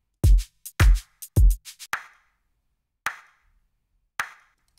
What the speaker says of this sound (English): So I found a similar clap and I triggered it and I panned it to the right.